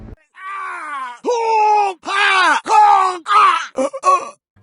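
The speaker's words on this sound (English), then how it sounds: "you know the weird-ass scream that I'm talking about when Chief falls 5 feet and dies because of a barrier" A series of strained, pitched groaning yells from Master Chief falling to his death in the Halo video game, several drawn-out cries in quick succession, loud and close.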